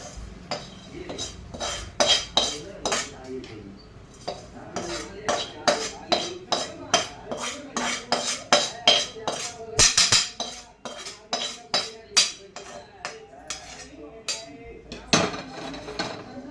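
Roasted poppy seeds poured and scraped out of a cooking pan with a spoon, giving dense, continuous metallic clinks and scrapes of utensil on metal, close and fairly loud with no talking.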